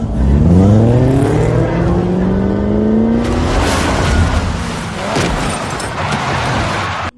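A car accelerates hard through rising gears, engine tones climbing steadily, then a rush of louder broadband noise as it brakes and slows, close and loud throughout, used as a sound effect in a story.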